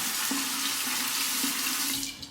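Water running from a tap to rinse a razor, a steady close splashing hiss into the sink with brief clinks from the razor, trailing off at the end.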